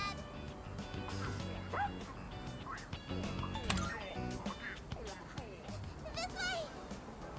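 An angry dog in the game Persona 3 Reload barks and yips repeatedly while chasing someone, sharp bursts scattered over game music with occasional whimpers and a character's voice calling out.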